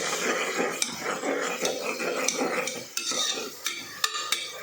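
Shallots, ginger and garlic for a country-chicken biryani sauté in a pan, with a continuous sizzle and frequent scraping clicks of a spoon stirring close up.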